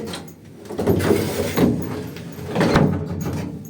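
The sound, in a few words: closing door of a prewar Wertheim elevator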